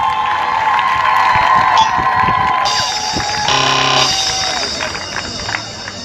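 Crowd at a community donation event in Port-Bouët cheering and applauding for a DJ, a dense, loud wash of shouts and claps throughout, with a brief tonal musical sting partway through.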